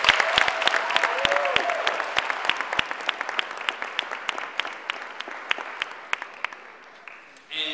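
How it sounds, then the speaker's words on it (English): Crowd applause at a community rally, sharp scattered claps over a broad roar of hands that slowly thins and fades over several seconds before a voice resumes at the end. "Please give that a round of applause."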